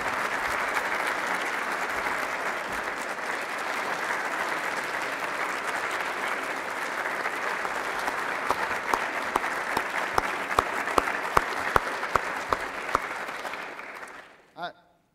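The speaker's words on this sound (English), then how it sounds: "I think a round of applause is appropriate for this group" Sustained applause from an audience at an award press conference, broad and steady for about fourteen seconds with sharper individual claps near the end before it cuts off.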